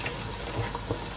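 Onions with spices frying in a pan for a Sylheti fish dish, a steady dense sizzle with small spatters and faint stirring scrapes, close and continuous with no talking.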